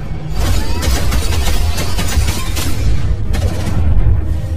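Rapid bursts of gunfire ring out from inside a train carriage in a film scene, a dense, loud, continuous volley with booming low rumble throughout.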